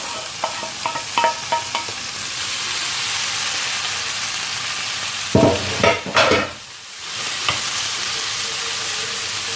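Ground meat and meatballs fry in a pan for tacos, giving a steady close sizzle broken by brief stirring scrapes and a louder burst of spattering near the middle.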